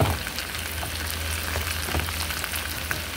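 Squash sautés in a pan for ginataang tulingan, a steady close sizzle and crackle of frying with no talk.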